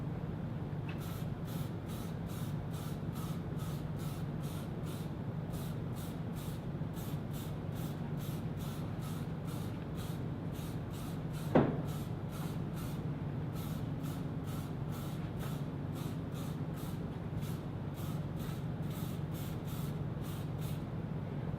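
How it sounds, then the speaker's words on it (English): Pureology hairspray is sprayed onto hair in a long series of short, rhythmic hissing bursts, close and fairly quiet, over a steady low background hum. "they can go ahead and spray as much as they want and still be able to get their fingers through their hair"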